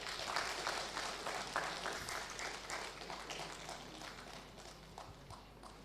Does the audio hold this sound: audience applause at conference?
yes